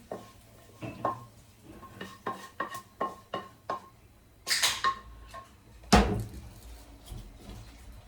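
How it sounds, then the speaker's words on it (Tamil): Sautéed chayote mixture is tipped into a pot of chayote and lentil curry: a series of close metallic knocks and clinks of a spoon on cookware, then two louder scraping, rushing bursts as the food is emptied in. "இப்போ பாருங்க, வதக்கி வச்சதை இதுக்குள்ள நான் கொட்டி எடுக்க போகிறேன்."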